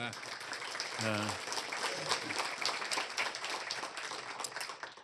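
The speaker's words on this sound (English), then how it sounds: "Let's give them a big round of applause." A crowd applauds at a SunTrust Park development update event, with dense, steady clapping heard at a distance, while a voice briefly speaks over it near the start.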